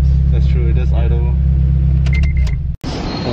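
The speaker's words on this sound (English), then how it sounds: "It does idle like it does have cams" A turbo Mitsubishi Lancer fitted with a Skunk2 header and exhaust idles with a deep, loping low rumble close by, while people talk over it and a brief mechanical whir and clunk cut in near the end.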